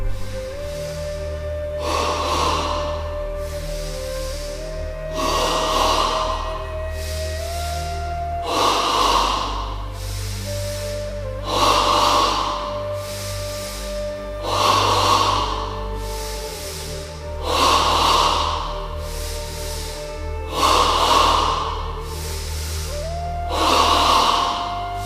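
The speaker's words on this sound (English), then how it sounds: "Ready now for stage 1 of double breathing, 10 times in the abdomen." Double breathing into the abdomen as a yoga breathing exercise, ten strong, close breaths repeated at a steady interval of about three seconds, each a rushing, airy puff over a soft, steady background hum.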